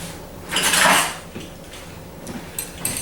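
Metal kitchen utensils clattering as a pizza cutter is rummaged out from among them, a loud jangling burst of cutlery and pans followed by a few lighter clinks.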